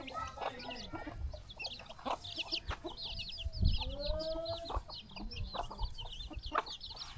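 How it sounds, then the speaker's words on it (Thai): Chickens cluck repeatedly around a village home where rice is being pounded, with several birds calling in busy overlapping bursts, some close and loud, others farther off, over a low background murmur. "โอ้ไก่"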